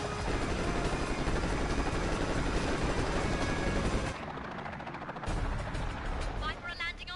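Viper helicopters in the Pursuit Force video game: a loud, continuous rotor roar with crackling gunfire mixed in, dropping briefly in density before resuming.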